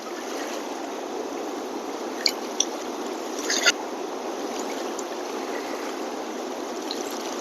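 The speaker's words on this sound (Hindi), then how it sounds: "देखिएगा कितने बड़े बड़े रैपिड यहाँ पे बन रहे हैं सोंग नदी में।" Rapids on the swollen Song river rush in a steady, loud roar of flowing water, with a few faint clicks and knocks on top and no clear speech.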